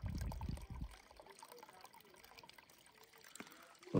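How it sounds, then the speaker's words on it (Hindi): Meltwater trickles faintly beside a snow-covered Tata Harrier on a winter road in the Lahaul and Spiti valley. A quiet, steady dribble runs throughout, with a brief, muffled louder rustle near the start. "यहाँ पे भाई हल्का हल्का पानी आ रहा है"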